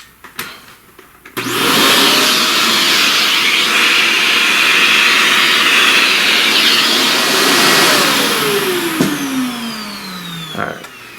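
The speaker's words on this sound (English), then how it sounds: "Alright, let's vacuum that." A vacuum cleaner switches on after a short quiet moment and sucks up loose pastel dust, a loud steady whine that holds for several seconds and then wavers as the nozzle moves.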